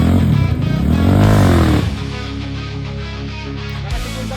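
A group of trail motorcycles, among them a 2014 Honda XR125, working over a rock garden trail: a loud engine rising and falling in pitch up close, then settling into a steadier, quieter drone.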